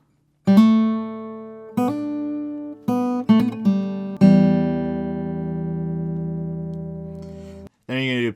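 Fingerstyle acoustic guitar playing the transition riff of a song: several plucked notes and chords ringing close and clear, the last one sustaining long before a brief final strum.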